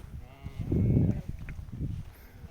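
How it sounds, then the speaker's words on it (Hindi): Sheep and goats bleat on a mountain trek near Gulmarg, with one long, loud, wavering bleat close by, followed by a shorter, softer call, heard against quiet outdoor background. "यहाँ से कुछ भेड़ बकरियाँ देखने को मिल रहे हैं"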